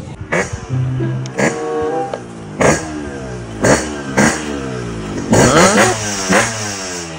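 A new AMSR 40 motorcycle engine revs in several short bursts, each rising and falling, close by and loud, with a steady idle between surges.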